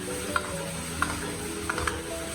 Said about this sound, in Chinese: 接着把烤馍全部倒在里面，再次翻炒均匀，使烤馍和菜心完全的融合一起。